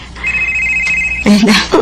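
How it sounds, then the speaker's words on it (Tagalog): A mobile phone rings for an incoming call with a steady, single-pitched electronic tone lasting about a second, and then voices start talking over it. "Nanawag na sa Norbert nako ay"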